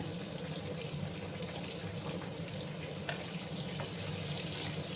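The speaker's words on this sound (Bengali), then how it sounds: "আলুগুলোকে আমি একটু লাল লাল করে ভেজে দেবো" Potatoes fry in a pan, seasoned with salt and Kashmiri chilli powder for a Bengali mutton curry, giving a quiet, steady sizzle with faint crackles and an occasional clink.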